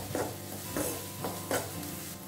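Onions softened in a pan with turmeric powder fry steadily while a spoon stirs them, giving a continuous close sizzle with soft scraping strokes roughly every half second.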